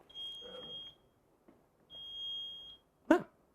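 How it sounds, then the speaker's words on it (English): A computer-controlled front door buzzer sounds exactly twice. Each electronic tone is steady and lasts under a second, with a pause between them. A dog barks briefly afterward, all fairly faint indoors. "it will sound the buzzer as often as I tell it to now"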